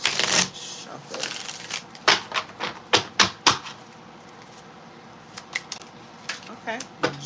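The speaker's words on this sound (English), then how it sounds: "get these cards shuffled." Tarot cards being shuffled by hand in repeated crisp riffling bursts, some sharp snaps between, close and fairly quiet with pauses.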